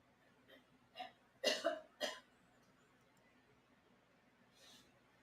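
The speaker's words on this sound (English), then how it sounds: "If you hear coughing in the background," A few dry coughs and a throat clear off in the background of a quiet room, spaced bursts in the first two seconds and one softer cough near the end, fairly distant and low in level.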